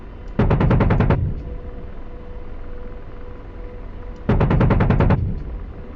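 AH-64D Apache chain gun in the flight simulator DCS World: two loud, close, rapid bursts of about eight rounds each, a few seconds apart, over a steady helicopter hum, with no talking.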